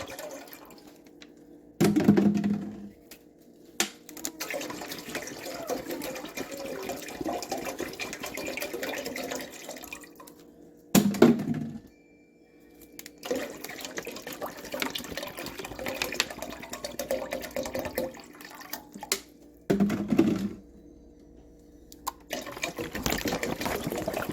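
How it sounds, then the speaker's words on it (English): Water runs from a tap into a cooking pot in several bursts, with short pauses between pours and splashing in a kitchen. "We're going to fill up this pot with some water."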